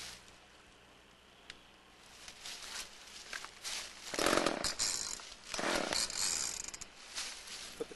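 A chainsaw being pull-started, with rasping cord pulls and brief sputters rising in bursts around the middle and toward the end, close by, over a rustling outdoor background.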